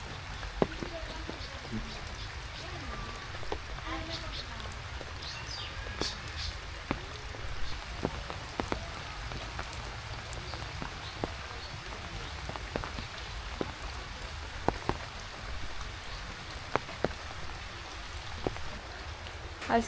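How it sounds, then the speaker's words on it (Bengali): Heavy rain falls steadily during village flooding, making a continuous dense patter with scattered louder drops striking nearby surfaces for the full length, and no other sound stands out. "আজকে যে বৃষ্টি শুরু হয়েছে"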